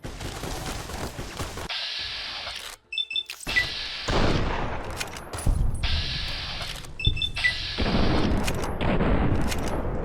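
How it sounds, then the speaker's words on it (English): A grenade launcher fires in Fallout New Vegas, giving repeated loud booming blasts with bursts of debris and gunfire-like noise, broken by short quiet gaps. "Grenade launcher."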